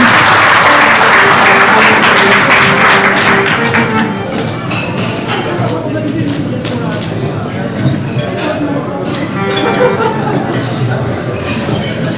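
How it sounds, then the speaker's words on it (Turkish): Big round of audience applause at an Adyghe Republic 25th anniversary celebration, loud and dense at first, then thinning into lighter scattered clapping with some background voices. "Badine de kocaman bir alkış."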